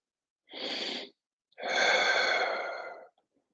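Two deep yoga breaths during a vinyasa practice, a shorter inhale followed by a longer, airy exhale, close and clear against silence, with no talking.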